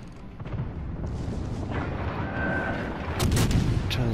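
Heavy gunfire from a combat video game, booming and rumbling as a continuous dense barrage, loud and close, with sharper bursts crackling in toward the end.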